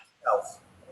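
A small rescue puppy gives a single short, high yip-like bark, close and fairly quiet, with a faint trailing whimper afterward.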